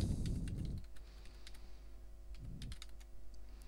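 Computer keyboard typing while entering a text label in MicroCAP 12 circuit simulation software, scattered close key taps in short bursts with a brief low murmur at the start.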